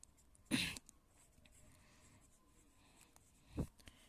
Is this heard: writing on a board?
yes